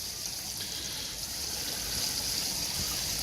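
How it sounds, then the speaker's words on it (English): Water trickles and washes steadily through a homemade wash plant trommel, a soft continuous hiss and gurgle at low, even level, heard alone. "And a little bit of water flow coming through"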